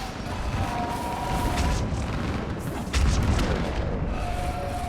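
Fire support artillery pounding targets in Mass Effect 3 during the battle on Thessia, a steady roar of booms and crashes with a heavier impact near the three-second mark, layered under battle noise.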